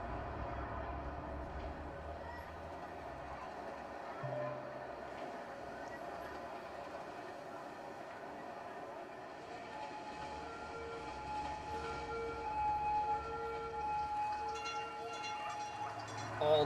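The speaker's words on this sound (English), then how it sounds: "Got another tram coming the other direction." A tram rumbles past in the city-building game Cities: Skylines, a steady rail hum and clatter heard throughout at moderate level, with a faint voice underneath.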